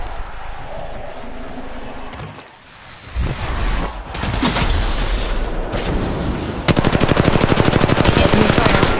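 Bursts of automatic gunfire in the Apex Legends Mobile shooter game, a brief lull, then sustained rapid fire that turns into a sharp steady rattling stream, loud and close.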